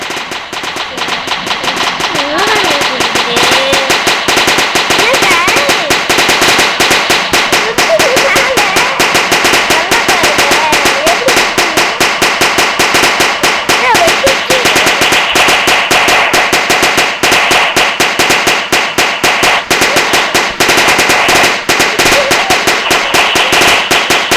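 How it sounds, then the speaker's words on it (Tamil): A long, loud, continuous string of firecrackers crackles in rapid-fire bursts for over twenty seconds without pause. "என்ன பட்டாசு இது?"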